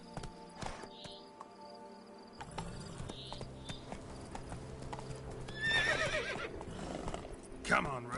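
Roach the horse in The Witcher 3 game, steady clip-clop of hooves trotting with a couple of neighs and whinnies over crickets and ambient game sounds, with a voice speaking briefly.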